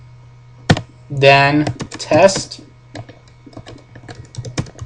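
Keystrokes on a computer keyboard, a run of sharp clicks tapering into lighter taps after a person briefly speaks, close and fairly loud over a steady low hum.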